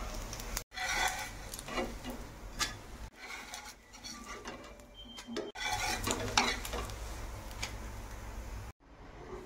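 A fasting dosa cooks on a pan with a low, soft sizzle and occasional light scraping and tapping of a utensil, fairly quiet and close, with brief pauses between stretches of sound.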